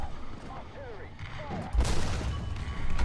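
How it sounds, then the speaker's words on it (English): Booming artillery fire in War Thunder during a US tank battle with the M15, M4A2 and M4A3, heavy blasts building into a sustained rumbling barrage in the second half under background battle noise. "Artillery, artillery, artillery."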